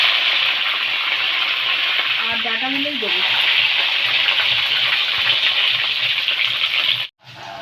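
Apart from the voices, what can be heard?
pumpkin and stems frying in hot oil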